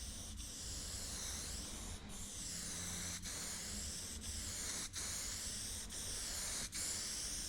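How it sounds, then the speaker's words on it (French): A spray can painting backgrounds black, giving a loud close hiss of aerosol spray in a steady stream broken by brief pauses, several bursts in a row with no voices. "J'ai ensuite peint les fonds en noir à l'aide d'un spray."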